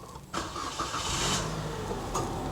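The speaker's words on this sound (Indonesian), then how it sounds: "Saya akan nyalakan mesinnya." A 2018 Toyota Agya TRD-S engine cranks and catches, a brief starter whir leading straight into a loud, steady idle that runs close by to the end, with no voices.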